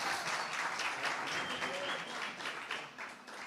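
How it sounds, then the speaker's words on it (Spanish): A church ministerial gathering breaks into applause, a fairly distant, even patter of many hands clapping that swells and then tapers off toward the end. "Un aplauso para Ana,"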